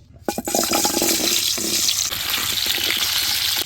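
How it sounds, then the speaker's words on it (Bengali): Potatoes frying in hot oil for aloo dum, a loud, continuous crackling sizzle that surges in just after the start and holds steady to the end, with no talk. "তেল গরম হয়ে গেছে এখন আলুগুলো ভাজি নিব"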